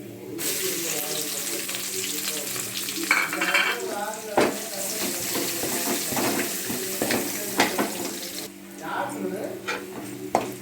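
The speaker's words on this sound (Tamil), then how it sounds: "நம்ம பொடியாக நறுக்கி வச்சுருக்க வெங்காயத்தை போட்டுக்கணும்." Chopped onions sizzle steadily in a hot pan, with stirring and scraping clatter rising and falling over the hiss.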